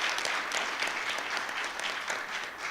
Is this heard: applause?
yes